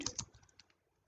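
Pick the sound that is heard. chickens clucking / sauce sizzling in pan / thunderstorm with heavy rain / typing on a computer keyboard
typing on a computer keyboard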